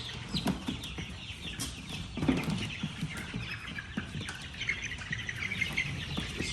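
White leghorn chickens cluck and chirp inside a coop, a busy overlapping flock chatter held close and steady throughout, with scattered louder calls.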